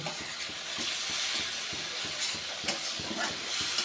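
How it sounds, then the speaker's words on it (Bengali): Spices with turmeric powder are stir-fried in a pan for a Bengali rohu fish curry with mustard sauce, with rapid rhythmic scraping of a spatula over a soft, steady sizzle, close and with no talking. "হলুদ গুঁড়ো দিয়ে আমি ভালো করে কষিয়ে নেব"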